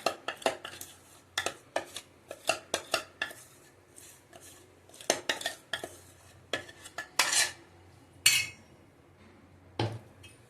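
A metal spoon clinks and scrapes against a pot while hot melted jaggery is mixed into ground dry fruits, in a series of sharp, close knocks and scrapes with brief pauses.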